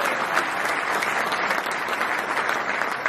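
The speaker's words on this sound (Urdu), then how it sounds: "کھڑے ہو کر تالیاں بجائے" An audience at a formal event welcome breaks into dense, sustained applause, a loud continuous patter of many hands with no speech over it.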